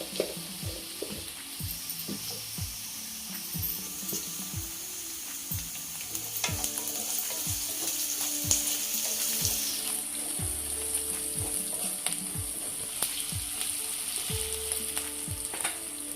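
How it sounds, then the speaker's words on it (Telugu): Broad beans sizzle and fry with salt in a pan, a steady close crackle with repeated stirring scrapes and no talk. "కొంచెం సాల్ట్ వేసి వేయించుకుందాం"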